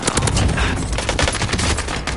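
Rapid bursts of shotgun gunfire in a multiplayer shooter video game, loud and dense blasts following one another with no speech over them.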